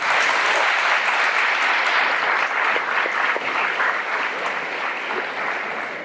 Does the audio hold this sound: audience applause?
yes